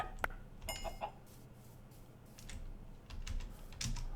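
A chicken clucks in the Minecraft modpack Enigmatica 2, with short bird-like calls mixed with soft keyboard clicks, all fairly faint, with no speech.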